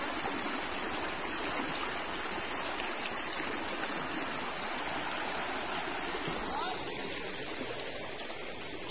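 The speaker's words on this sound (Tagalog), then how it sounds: "Malakas ang agos." A strong river current rushes past in a steady, continuous wash of water noise that stays even and fairly close throughout.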